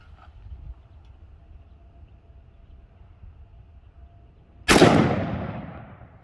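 An AK rifle fires a single shot of old, rusty, water-logged steel-case ammunition: a sharp, loud crack after several seconds of near silence, trailing off into a fading outdoor echo.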